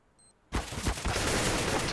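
Loud burst of AK rifle gunfire in the CS:GO shooter game at an ESL France match, bursting in after a near-silent lead-in with a faint electronic beep, then a dense rattle of rapid shots and echoing impacts.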